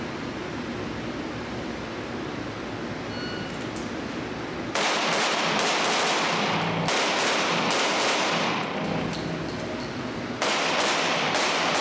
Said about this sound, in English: shoot from the left, shoot from the right, run to the left, shoot all of them, run to the right, shoot all of them